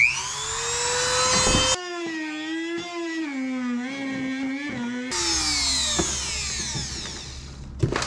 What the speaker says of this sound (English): I have a nice marking here with my Dremel, so I'll be able to cut it really easy.